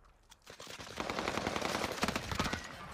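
Gunfire crackles in Warzone Caldera, a dense run of distant shots and reports rising and sustained for a couple of seconds over battlefield noise.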